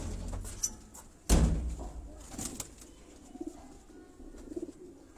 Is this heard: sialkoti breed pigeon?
yes